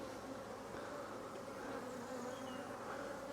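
Honeybees buzz around an open hive while a split is made for a new queen, a steady close drone with a soft continuous hum and no talking.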